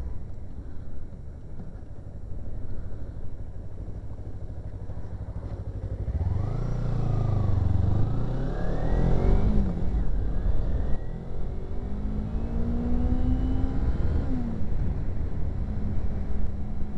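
A motorcycle engine revs as the throttle is rolled on, idling at first, then climbing smoothly in pitch over several seconds with no hesitation before settling into a steady, fairly close drone.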